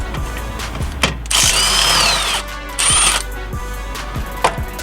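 Power tool spinning a socket on an 18mm bolt at the rear strut of a BMW E46, two sustained whirring bursts between sharp metallic clicks and clanks, close up and without speech.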